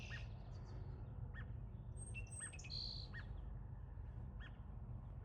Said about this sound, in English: This one is American robin.